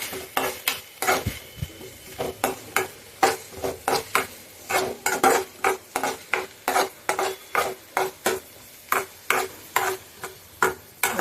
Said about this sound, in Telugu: ఆఫ్ ఆల్ ఆనియన్స్, కరివేపాకు, పచ్చిమిర్చి వేసుకొని లైట్ గోల్డెన్ కలర్ వచ్చే వరకు వేయించుకోవాలండి